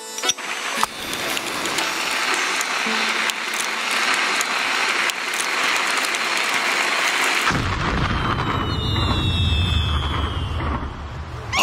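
Bombs and fireworks exploding in a children's animated tale about Chinese villagers blasting a stone, a dense crackling barrage of bursts followed by a heavier rumbling boom and whistling fireworks, loud and without talk.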